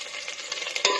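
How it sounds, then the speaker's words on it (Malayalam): Chicken chukka with green chillies and curry leaves is stirred in a hot pan, a close, bright sizzle with a few quick scraping strokes and a sharper scrape at the end; no voices. "നന്നായി ഇളക്കി കൊടുക്കാം."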